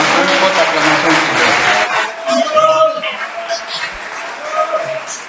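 A church congregation gives a loud, sustained acclamation of cheering, shouting and applause for the Lord that carries on for several seconds.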